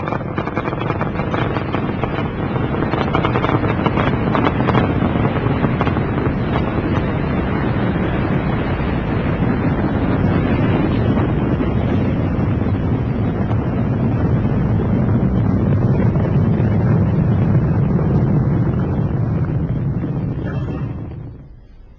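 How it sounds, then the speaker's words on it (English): Space Shuttle Endeavour's solid rocket boosters ignite and carry it off the pad, a loud, continuous broadband roar that holds steady for about twenty seconds before fading at the end. "Booster ignition and liftoff of Endeavour in pursuit of the Japanese satellite"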